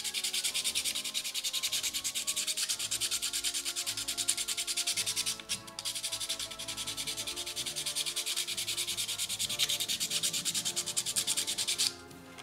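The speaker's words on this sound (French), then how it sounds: "Un petit ponçage au grain fin." Steady fine-grit sanding of a 3D printed FDM part, a continuous close rasping rub that runs nearly unbroken for about twelve seconds, with one brief pause midway and a stop at the end.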